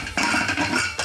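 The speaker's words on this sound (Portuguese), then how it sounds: "vou tampar aqui a minha panela" A metal lid is set onto a pressure cooker pot holding white beans and tripe, giving a single close clanking knock followed by a brief rattle, with no talk.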